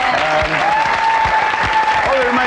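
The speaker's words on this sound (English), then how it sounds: "So give each other a round of applause." Steady studio applause on a 1997 BBC One lunchtime news programme as guests finish a segment, a dense, loud wash of clapping with a voice speaking over it.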